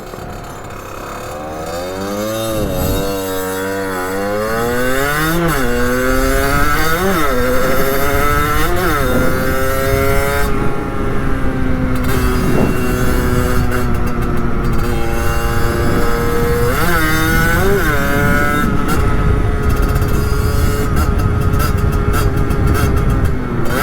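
A 50cc moped engine revs and drops repeatedly as the rider shifts up and down through the gears on the road, a loud, close buzzing whine rising and falling in pitch with each shift.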